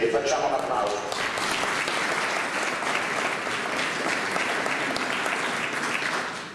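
Sustained applause from an audience at an outdoor living nativity event in Panettieri, steady and dense throughout, with some voices mixed in.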